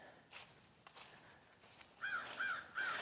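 A crow caws three times in quick succession near the end, clear but moderately distant, after a few soft footstep-like scuffs.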